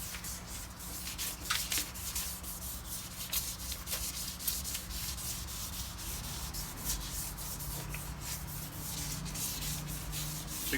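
Close, continuous scratchy rubbing of 600 grit sandpaper worked over car paint, with steady strokes and no pauses throughout.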